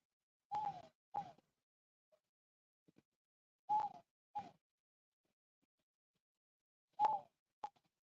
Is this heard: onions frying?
no